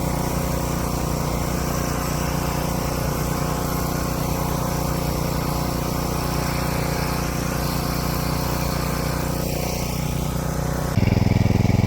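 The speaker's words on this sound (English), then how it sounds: "Really like the DR mower. It's self-propelled." A DR self-propelled walk-behind mower cuts through tall grass, its small engine droning steadily and loudly up close with no talking, and the tone shifts abruptly near the end.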